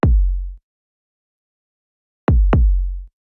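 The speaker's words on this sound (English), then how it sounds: "So it's a pretty basic kick" A basic kick drum sample hits once alone, then twice more in quick succession after a pause, each a deep, punchy thump that decays into silence.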